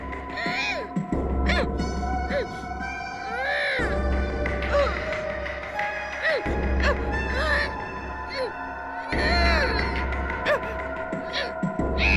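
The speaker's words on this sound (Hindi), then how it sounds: "रोने की आवाज इस कमरे से आ रही है।" Crying plays from a tape recorder in a room in a CID crime drama, wailing, sobbing tones that rise and break in repeated bursts over a low hum.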